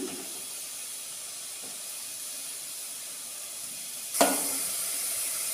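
Onions frying for a Telugu-style fish curry give a steady, faint hiss and sizzle, then a sharp louder sizzle near the end as more goes into the hot pan.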